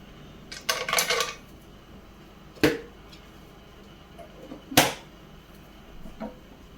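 Cashews stirred in melted ghee in a pan, heard as a few sharp metallic clinks and scrapes of a utensil against the pan, spaced apart and fairly close, with quiet gaps between.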